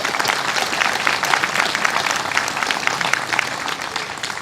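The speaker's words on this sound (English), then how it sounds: "So a round of applause for those" Steady, dense applause from a gathered crowd at a site welcome ceremony, loud and continuous for several seconds without a break.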